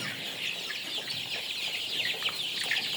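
Sonali chickens about 26 days old cluck and chatter in a poultry farm, a dense, steady chorus of many birds close by with overlapping calls and no talking.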